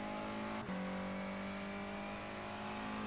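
A Honda Civic race car in the rFactor 2 sim during SRGP practice: a steady, close engine drone that dips briefly at a gear change, then settles into a higher, sustained tone.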